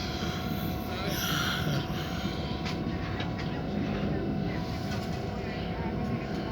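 Steady rumbling rolling noise of a passenger train riding on rails, heard from inside a carriage, continuous and fairly loud with faint murmured voices in the background.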